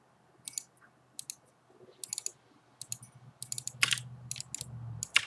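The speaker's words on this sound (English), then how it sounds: "I'm going to hold shift and then double click" A computer mouse clicked in quick pairs while shift is held during 3D modeling, crisp close clicks in irregular bursts with faint keyboard-like tapping, no talk.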